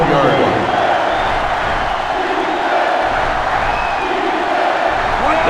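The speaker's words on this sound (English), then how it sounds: "This sellout crowd is really making a difference now as these guys can't even call the play." A sellout stadium crowd roars steadily in the NCAA Football 07 video game during a third-down play. The broad, constant crowd noise sits beneath continuous play-by-play commentary.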